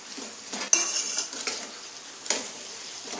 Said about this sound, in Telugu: ఇప్పుడు వచ్చేసి ఈ కోకోనట్ ముక్కలు ఉన్నాయి కదా, కొబ్బరి ముక్కలు వేసేస్తున్నాను